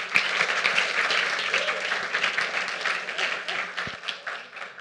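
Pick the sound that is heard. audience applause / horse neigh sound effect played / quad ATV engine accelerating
audience applause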